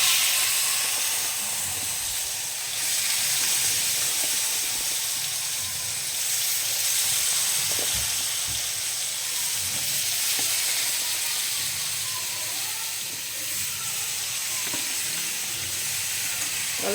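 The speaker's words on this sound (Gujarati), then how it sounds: "હવે આપણે ટમેટા એડ કરીશું" Tomatoes sizzle and spit in hot oil with asafoetida and turmeric over a high gas flame, a steady frying hiss with occasional stirring clinks, close by and without any talk.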